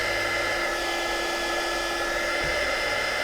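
A heat gun or hot-air tool blowing on a metal part of Pioneer HDJ-700 headphones to loosen thread lock: a continuous loud, steady whooshing hum with a constant whine, close and unbroken.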